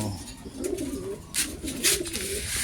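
Pigeons cooing in a low, rolling rhythm, several soft phrases repeating close by, with brief higher rustles or flutters in between.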